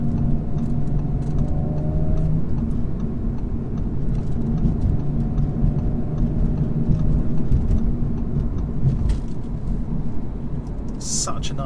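A 2017 Audi S4 engine drones steadily from inside the cabin while driving, a continuous low rumble blended with road noise.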